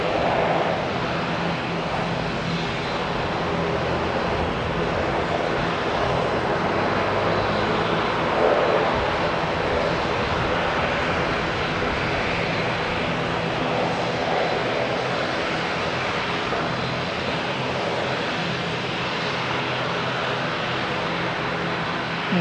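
Airliner engines rumble at Auckland Airport around a domestic flight to Christchurch, a loud, even, sustained roar with little variation and no one speaking.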